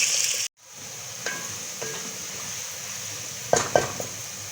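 Onions fry in oil toward golden brown for chicken korma, a steady close sizzle and hiss broken by a few soft utensil clinks against the pan, with no talking.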